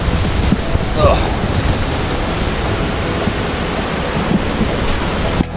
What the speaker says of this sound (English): I made it to the top of the waterfall.